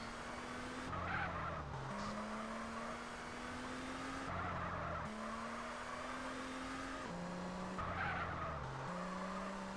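A car in the Grand Theft Auto San Andreas driving school spins through repeated 360 laps, its engine revving loudly while the tires squeal and skid in recurring bursts.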